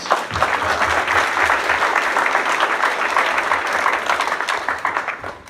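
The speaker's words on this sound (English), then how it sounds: "I want to give you all a big round of applause" Warm audience applause at a campaign kickoff event for a county supervisor candidate; a dense, continuous wash of clapping from a gathered crowd, fairly loud and close, tapering slightly at the end.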